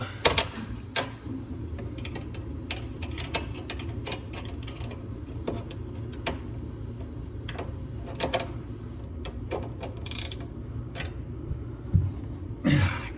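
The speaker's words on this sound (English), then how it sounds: "and a ratchet. Hopefully I have enough space to get that nut tightened up." A ratchet tightens a nut on a seat of a 1962 Alumacraft Maracaibo 14 aluminum boat, giving sparse, scattered clicks close by over a low steady hum, with a few sharper knocks near the end.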